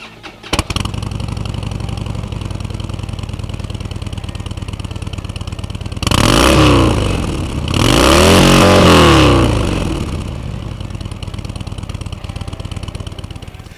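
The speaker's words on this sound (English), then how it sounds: "Now, here's the Harley Wide Glide." A Harley-Davidson Dyna Wide Glide on stock exhaust cranks and catches, then idles with a loud, lumpy throb before two strong revs surge and drop back to idle, heard close with no speech.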